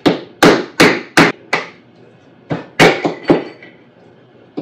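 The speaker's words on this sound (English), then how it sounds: "I'm going to do a gentle tap with the hammer." A hammer gives light metallic taps to press a nut adapter into place, eight or nine sharp separate strikes at an uneven pace with brief ringing decays.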